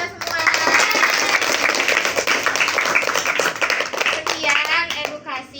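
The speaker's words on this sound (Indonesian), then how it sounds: "Tepuk tangan untuk kita semua." Children clap their hands together in a brisk, sustained burst of applause at an event about healthy eating, with many overlapping claps, some young voices calling out over them, and the clapping thinning out near the end.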